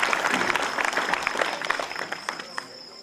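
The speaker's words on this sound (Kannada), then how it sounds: "ಜೋರಾದ ಚಪ್ಪಾಳೆಯ ಮೂಲಕ ಅವರಿಗೆ ಅಭಿನಂದಿಸೋಣ" An audience at a religious gathering claps loudly, dense and continuous applause that fades slightly near the end, with a faint voice mixed in.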